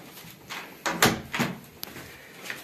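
A door on butterfly hinges swings shut with a couple of close, soft thuds and a brief creaking scrape, heard alone in a quiet room.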